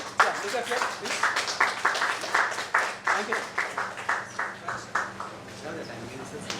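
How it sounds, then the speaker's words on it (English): An audience at a Marathi news channel launch breaks into sustained applause, a dense run of rhythmic clapping that rises and slowly tapers, with a voice heard faintly underneath. "round of applause, ladies and gentlemen"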